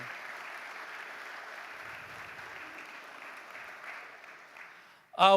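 Applause from a church audience honoring the Greenville Free Methodist Church at a leadership summit, a steady moderate wash of clapping that fades out before a sudden loud sound at the very end.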